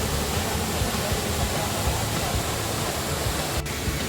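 Mainapi Savri waterfall at Netravali roars as a steady, dense wash of falling water, loud and unbroken throughout with no voices over it.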